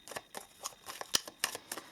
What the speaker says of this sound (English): we're going to use the Moon Magic cards, okay? So let us shuffle those a little bit.